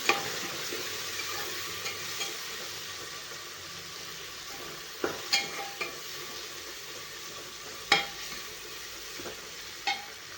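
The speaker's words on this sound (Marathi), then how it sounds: "हळद टाकायची एक अर्धा चमचा आपल्याला लाल तिखट टाकायचं याला आपण चांगलं परतून देणार आहे" Turmeric and red chilli powder sizzle steadily in a hot pan, a continuous soft frying hiss broken by a few light clinks and scrapes of stirring, with no talk.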